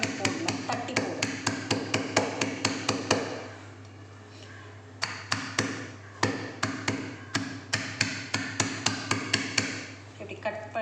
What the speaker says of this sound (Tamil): இது எல்லாத்தையும் ஒன்றா இப்படி தட்டிக்கணுங்க